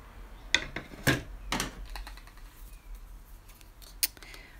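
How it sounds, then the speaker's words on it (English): Black electrical wire being cut with a cutter while building an LED lamp base, a few sharp close snips and clicks, quiet and spaced apart. "So I'm going to cut the black wire"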